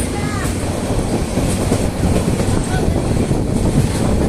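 A train rolls along the tracks at night with a loud, continuous rumble and rhythmic clatter, heard from on board as it rounds a curve.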